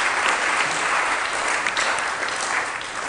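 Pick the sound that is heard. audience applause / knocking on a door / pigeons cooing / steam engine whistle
audience applause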